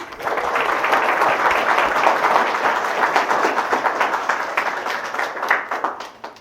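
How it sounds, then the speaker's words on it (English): Wedding guests applaud the couple's parents at a wedding ceremony, with dense, steady clapping from a crowd that holds strong throughout and tapers slightly toward the end. "Give our parents a round of applause."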